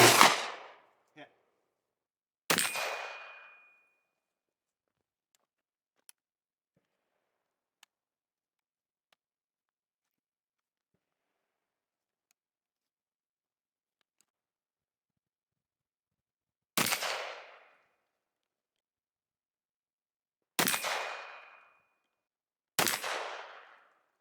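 A Charles Daly 101 shotgun fired at targets outdoors: five sharp, loud blasts with long quiet gaps between them, two close together at the start and three toward the end, plus a few faint clicks between shots.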